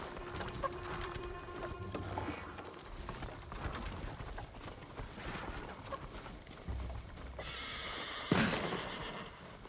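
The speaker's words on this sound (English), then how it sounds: "Follow those horses." In the video game Ghost of Tsushima, a horse whinnies sharply near the end, over a steady bed of galloping hoofbeats and busy background sounds.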